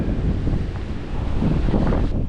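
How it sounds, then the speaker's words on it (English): Rough night sea waves churn and wash steadily at a pier in Maryport, Cumbria, while gusty wind buffets the microphone, a loud, continuous rushing with no voices. "It is quite rough tonight. The waves are quite rough."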